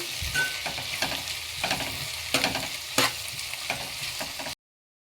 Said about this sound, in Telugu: ఇలా వేగిన తర్వాత ఇప్పుడు ఇందులో మనం అల్లం వెల్లుల్లి పేస్ట్ వేద్దాము. ఇది పచ్చివాసన పోయేంత వరకు ఒకసారి కలిపేసుకోవాలి.